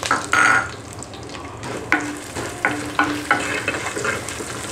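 Coconut pieces frying in a pan with mustard seeds and chilies for a chicken thoran, a crackling sizzle broken by several sharp scraping stirs of a spatula, close and loud, with no voices.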